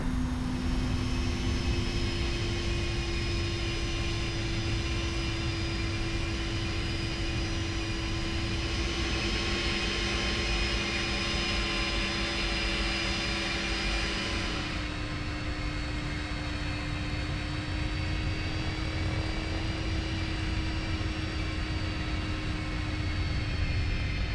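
Simulated Boeing 767 jet engines hum steadily while the airliner taxis off the runway at Toulouse in the X-Plane flight simulator, a continuous whine and rumble with a slight pitch shift partway through, no voices.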